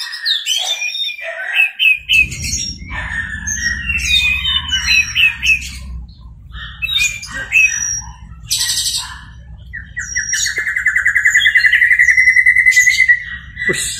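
An orange-headed thrush sings for a training recording, with a busy mix of loud whistled phrases, chirps and squawks and a long trilled passage, all close over a steady low hum.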